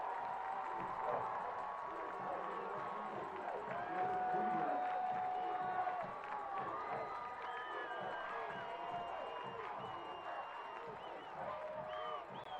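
Crowd cheering at a Chapel Hill versus Vidor high school football game, a broad distant roar with scattered shouts under a commentator's voice.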